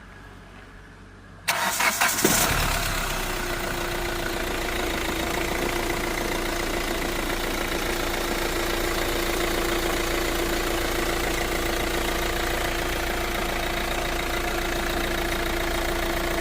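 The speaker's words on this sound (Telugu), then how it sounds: "ఒకసారి ఇంజిన్ స్టార్ట్ చేస్తున్నాను సౌండ్ అయితే ఒకసారి మీరు గమనించవచ్చండి" A Hyundai i20 Asta diesel car engine cranks briefly and catches, then settles into a steady, rumbling diesel idle that runs on evenly and close by with no voices.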